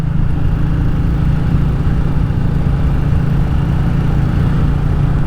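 A Royal Enfield Classic 350 single-cylinder motorcycle riding along country lanes in Powys, a steady loud engine drone with an even low thrum, heard close and continuous without any talking.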